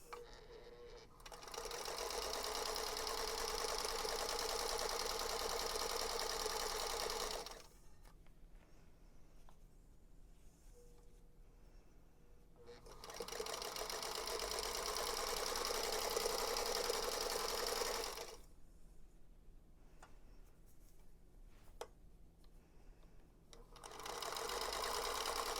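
A sewing machine stitches a quilt block at a scant quarter-inch seam in three long, steady bursts of close whirring, separated by quiet pauses with faint handling noise.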